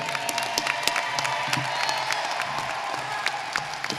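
An audience at a high school graduation ceremony breaks into sustained applause, a dense wash of clapping with scattered cheers and whoops from the crowd.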